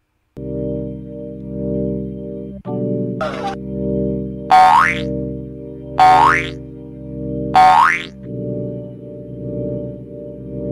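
Cartoon-style boing effects sound over a sustained buzzing synthetic drone, several springy rising twangs in a row at an even pace, loud and close.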